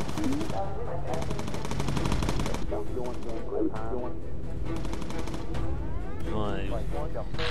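Machine gun fire in the aerial combat game Bomber Crew rattles in loud, sustained bursts through most of the stretch, overlapping with a voice talking.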